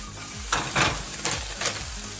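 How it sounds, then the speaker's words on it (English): Green beans sizzle in a pan with mushrooms and garlic, a constant close frying hiss broken by four quick bursts of tossing and scraping; no one talks. "Next, we're gonna add our green beans. Start tossing those around."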